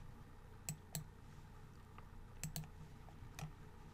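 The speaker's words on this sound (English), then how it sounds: "in the new Python file name field, type dictionary example and click on the OK button" Someone types a file name on a computer keyboard and clicks, giving a few sparse, quiet key taps and clicks spread out against a faint background hum.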